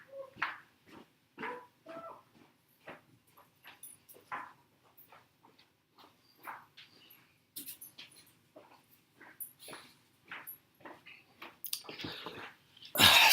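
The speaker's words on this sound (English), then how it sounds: "One of the dogs gets overly excited when people come home." Excited dog greeting people arriving home, giving a run of short yelps and whines with scuffling and chewing-like clicks, growing louder and harsher at the very end; fairly close, with no talk.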